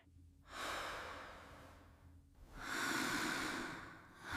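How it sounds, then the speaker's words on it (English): Two slow, breathy yawns at bedtime, close and quiet, each a long airy swell with a pause between and no talking. "I yawn a lot."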